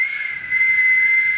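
A voice imitates a dragon's piercing whistle: one steady, thin, very high sustained tone lasting just over a second, close and loud with faint breathy hiss beneath.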